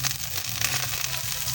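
Garlic and onion sizzle steadily in hot oil as they sauté for a coconut-milk vegetable dish, a loud, close, continuous crackling hiss.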